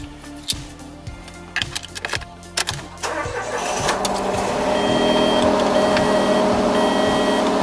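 A car engine is cranked with the key after a few clicks and rattles, the starter whirring before the motor catches and settles into a steady, close idle, with no one talking.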